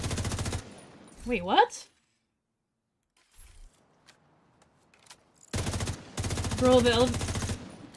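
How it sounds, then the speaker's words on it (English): Automatic fire from an LVOA rifle in The Division 2, two loud rapid bursts, a short one at the start and a longer one near the end, separated by near silence and a few brief spoken words. "I think the LVOA has too high a rate of fire."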